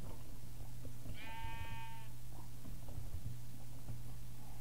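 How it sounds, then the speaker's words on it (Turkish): A pink sheep in the video game Minecraft gives one short, wavering bleat over a steady low hum of background noise. "pembe koyun ne?"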